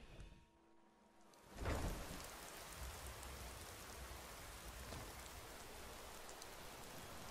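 Steady rain hisses in the Taja's Cabin video game, a dense even wash of drops that swells after a quiet start and then holds constant, with no voices.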